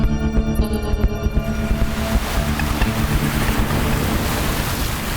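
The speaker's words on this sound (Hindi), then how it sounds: "ऐसे लग रहा है जैसे कि लहरों की आवाज है।" Waves surge and wash continuously inside a mysterious cave, a dense, loud, roaring water noise with steady swells and no voices.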